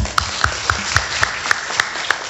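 Rhythmic unison clapping from a church congregation at an Ascension Day service, steady evenly spaced claps about every quarter second, loud and close, with no talk over it.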